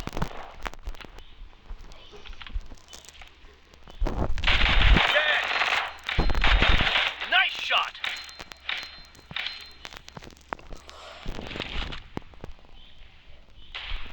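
Automatic gunfire in a video game comes in loud, close bursts of rapid shots, with two heavy volleys in the middle and lighter scattered shots around them, under occasional voices.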